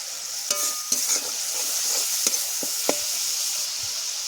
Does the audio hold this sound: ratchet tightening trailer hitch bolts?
no